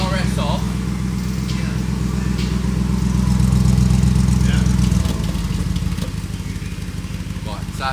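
An Audi RS6 V8 rebuilt after fire damage, with its exhaust system just refitted, runs steadily near at hand, swelling into a louder rev around the middle before dropping back to a rough, pulsing idle.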